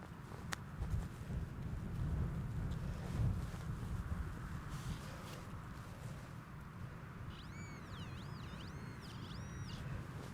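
An XP Deus 2 metal detector sweeping over a buried target gives short, repeated warbling tones near the end. They sound fairly faint above steady wind buffeting and outdoor rumble.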